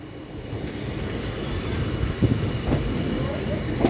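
Kathgodam Dehradun Express train near Haldwani station, a steady rumbling roar of the passing train with wind buffeting the microphone and a few faint clanks, continuous and fairly loud.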